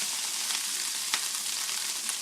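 Browned, drained ground meat for wet burritos sizzles steadily in a hot pan, a constant bright crackling hiss with a few soft clicks and stirs, no voices.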